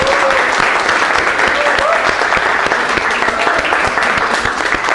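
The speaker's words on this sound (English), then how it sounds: "So please clap for them" An audience at a travel quiz event applauds the hosts, dense steady clapping filling the room, loud and continuous throughout.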